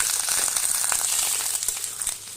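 Taro (kochu) pieces frying in a pan with bay leaf, dried red chillies and cumin, giving a steady, dense crackling sizzle that holds close and fairly loud throughout with no voices.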